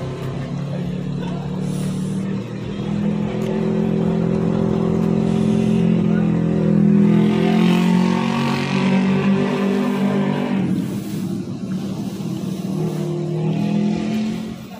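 Sinar Muda Suites Class luxury bus cruising on the road, a steady engine drone with road rumble that swells in the middle and eases off, continuous throughout without talk.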